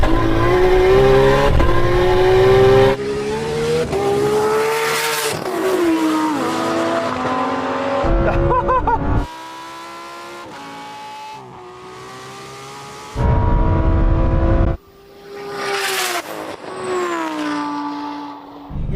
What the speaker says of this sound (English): we're going to do this Lamborghini against the R33